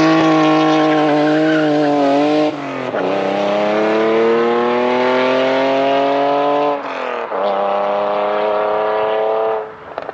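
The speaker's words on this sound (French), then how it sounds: "J'en reviens pas comment qu'elle gueule fort ta voiture, c'est impressionnant." A BMW roars through a standing start, its exhaust bellowing loud and close as the engine revs climb in rising sweeps, dropping briefly at each gear change before pulling hard again.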